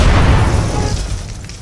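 A machine gun blows up in the UnMetal video game, producing a loud, close, low booming explosion that rumbles and slowly fades over under two seconds with no talk.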